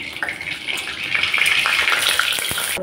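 Hilsa fish frying in mustard oil in a wok, a steady bright sizzle with scattered sharp pops and crackles rising slightly in intensity, close and alone with no voices.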